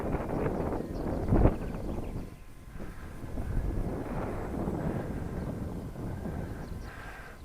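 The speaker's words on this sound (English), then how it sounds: "And when it's windy like this, it's hard to tell" Gusty wind buffets the microphone outdoors during a maiden flight of an FPV Raptor model plane, a rough rumbling roar that swells and dips throughout with no talk.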